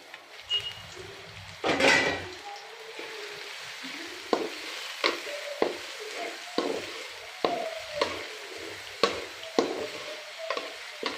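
Onion pieces and green chillies frying in oil in a village-style kitchen, a soft sizzle broken by repeated scraping and clinking of a spoon stirring in the pan, with one louder clatter near the start.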